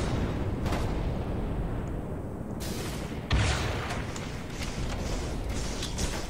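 Rocket launcher explosions in Halo 3 competitive play, a steady rumble of blasts and gunfire with a sharper boom partway through.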